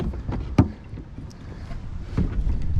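Crescent KCraft paddle craft launched into the water, with a hard knock, soft splashes and hull scrapes against wind noise and light water movement close to the mic.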